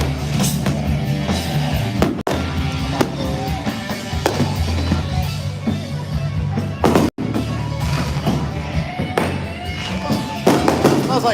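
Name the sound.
fireworks exploding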